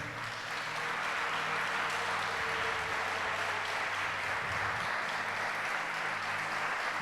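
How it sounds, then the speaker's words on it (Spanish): A church congregation applauding during a Spanish-language sermon: sustained, even clapping that sounds somewhat distant and soft, with a low hum underneath and no speech. "Puede darle palmas fuertes al Señor."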